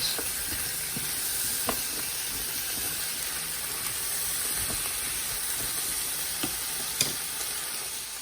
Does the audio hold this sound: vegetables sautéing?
yes